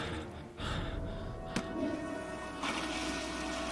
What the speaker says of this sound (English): Flushing down the toilet.